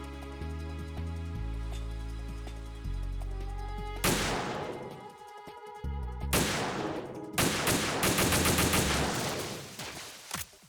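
Support gunfire in Metal Gear Solid 2: Sons of Liberty, loud rapid bursts of shots rattling in dense volleys with short gaps between them, heard over a steady musical drone.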